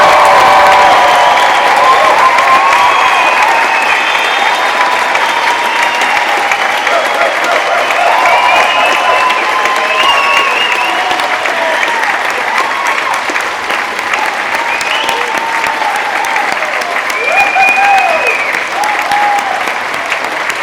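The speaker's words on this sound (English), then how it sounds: "everyone join me in giving them an enormous last round of applause" A large audience at a Birmingham university degree ceremony gives the standing graduates a long, loud, sustained round of applause, dense clapping filling the hall with scattered cheers and a few voices beneath.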